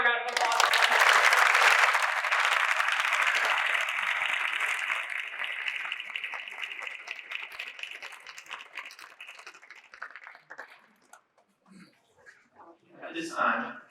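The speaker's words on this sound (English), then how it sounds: "Let's have a round of applause." At a high school National Honor Society induction ceremony, an audience bursts into loud, dense applause that gradually thins to scattered claps and fades out, followed by a brief voice near the end.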